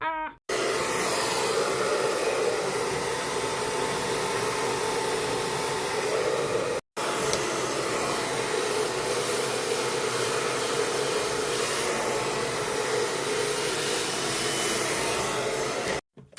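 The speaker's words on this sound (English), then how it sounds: "I can come back and blow dry it in." A hair dryer blows on hair as a loud, steady whooshing drone for about fifteen seconds. It cuts out for a moment near the middle and again at the end.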